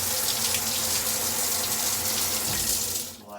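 Water from a Grohe SmartControl 360 Duo shower in massage spray mode, a steady, full hiss of spraying water running close and continuously before it cuts off at the end.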